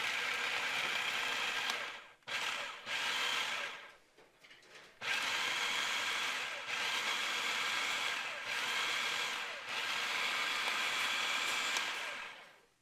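A food processor blade whirs loudly in repeated bursts while chopping tofu, running several pulses of a few seconds each with short pauses between, no voices over it.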